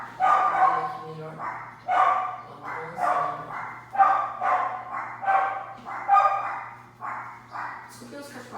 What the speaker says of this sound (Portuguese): Desculpe os cachorros que eu vou fechar aqui a porta